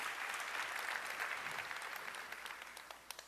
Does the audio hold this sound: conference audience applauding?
yes